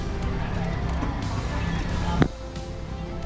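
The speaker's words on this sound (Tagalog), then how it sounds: "ang tawag dito, e-trikes. E-trike. Electric tricycle." Electric tricycle rides along a road in Boracay, a continuous rolling motor-and-road hum with traffic noise and a sharp knock near the end, while voices chatter over it.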